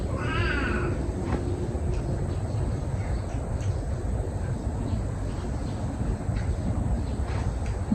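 Several hungry pet cats meow insistently for food in a rural home, a couple of clear cries at the start followed by a steady ambient bed with faint, scattered calls.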